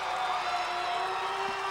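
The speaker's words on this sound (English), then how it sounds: "And the crowd goes" A basketball crowd at a college game roars with a dense, steady wash of cheering after a dunk, loud and sustained throughout.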